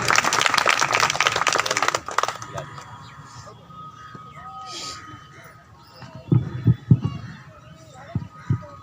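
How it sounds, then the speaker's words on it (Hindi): Applause from an audience at a UPSF student conference in Katihar, a dense burst of clapping for the first two seconds that gives way to room noise, scattered voices and a few thumps. "राहुल रौनक जी के लिए एक बार जोरदार ताली से स्वागत करें।"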